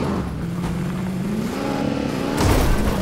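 A car being driven, steady engine drone with a low tone rising gradually, then a louder surge of revving near the end, close and continuous with no talk.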